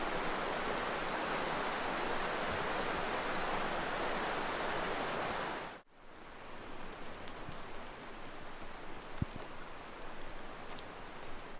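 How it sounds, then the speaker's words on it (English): A river flows right beside a riverbank campsite on the Olympic Peninsula on a rainy night, a loud steady broadband rush that dips abruptly midway and then carries on slightly softer, with no voices. "Right next to a river, which is right on the other side of the bank"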